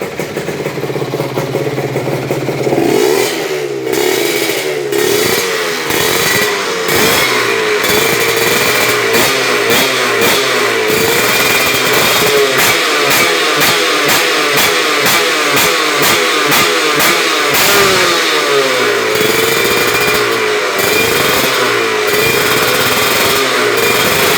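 A tuned racing engine, a home-built unit with locked valves, revs hard and repeatedly in rapid bursts, loud and close, each throttle blip snapping back between sharp rises with no talk over it.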